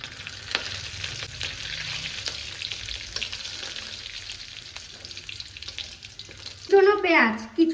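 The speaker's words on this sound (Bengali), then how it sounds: "ফোড়নে দিচ্ছি তেজপাতা, শুকনো লঙ্কা, গোটা গরম মশলা আর জিরে।" Bay leaf, dried red chili, whole garam masala and cumin hit hot oil with a loud, sustained sizzle and stirring. A short voice-like burst comes near the end.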